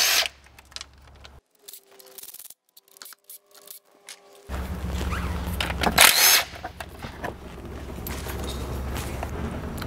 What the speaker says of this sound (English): So we're gonna start by removing the bolts.